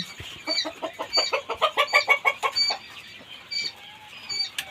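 A hen and a rooster clucking close by, a quick run of rhythmic clucks building in the middle then trailing off into a few scattered calls.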